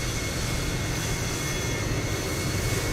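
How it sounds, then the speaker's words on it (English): A FlyByWire A32NX airliner in Microsoft Flight Simulator 2020 takes off, a steady, loud jet-engine roar holding broad and even without a break. "There's a nice takeoff right there."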